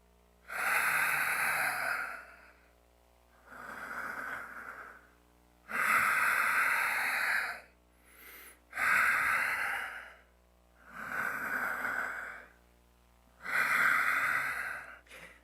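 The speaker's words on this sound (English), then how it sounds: "So here's the breathing. You inhale to the left," Slow tai chi breathing during a turtle flow form: six long, loud breaths, inhales and exhales alternating in a steady rhythm with brief pauses between them, close to the microphone and with no talking.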